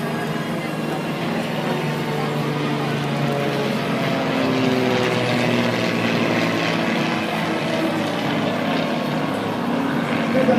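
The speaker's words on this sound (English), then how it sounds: "2 aircraft off to the left, and they depart that" Aircraft performing at an air show display, two planes departing to the left, produce a continuous loud engine drone with shifting tones throughout, steady and sustained with no clear talk.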